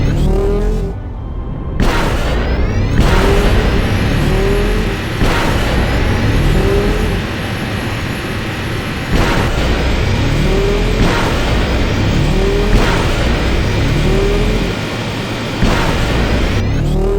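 Racing vehicle engine in Star Wars Knights of the Old Republic II, a loud continuous engine roar with repeated rising whines every second or two, alone without voices.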